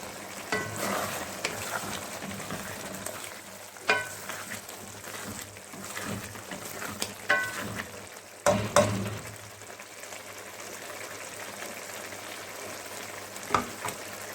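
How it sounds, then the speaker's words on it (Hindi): Ridge gourd and potato sizzle steadily in hot oil as they are stir-fried, with occasional scrapes and knocks from a stirring spoon against the pan and no talking. "पाँच से 7 मिनट लगेंगे इसकी बुनाई करते हुए, ताकि तोरियों में से पानी भी हो जाए खुश्क"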